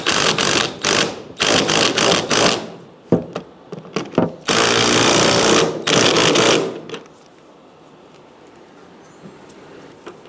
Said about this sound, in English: we're going to use an 18 millimeter to tighten this up